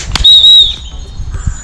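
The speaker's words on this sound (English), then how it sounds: "because she's getting used to that whistle, meaning Lucy!" A dog-training recall whistle used to call back a French Bulldog, a single sustained high whistle blast of about half a second, fairly loud and close, with faint background rustle and no talk.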